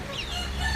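A backyard gamefowl rooster gives a brief crow, close and fairly loud, with a drawn-out wavering call heard amid farmyard background.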